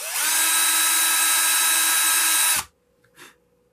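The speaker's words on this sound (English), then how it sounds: "you're just going to drill in a little bit." Power drill running at slow speed, boring a small screw hole in a guitar kit: one steady, close whine lasting over two seconds, then a sudden stop and a soft knock.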